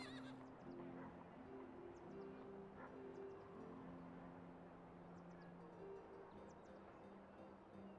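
Horse neighing in the strategy video game Master of Command, faint and distant amid a steady game ambience with bird-like chirps, the whinny partly buried in the background mix.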